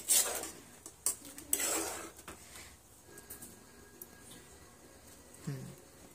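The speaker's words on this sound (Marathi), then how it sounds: "आता हा आपण एका बाउलमध्ये काढून घेऊया।" Cooked moringa drumsticks being scooped out of a kadai into a bowl for shevga rassa bhaji, giving a few close metallic clinks and scrapes of utensil on pan in the first two seconds, then quieter faint handling.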